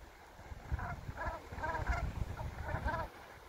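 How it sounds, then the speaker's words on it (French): Birds calling on an ocean shore, a run of honking, goose-like calls repeated in short bursts, fairly faint over a low wind and surf background. "Alors, je sais pas ce que c'est comme oiseau, je connais pas bien."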